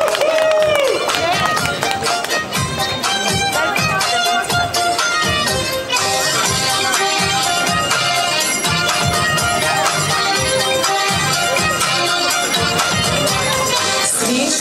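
Audience at a Christmas carol concert claps steadily and loudly, a dense continuous wash of applause filling the hall with scattered voices.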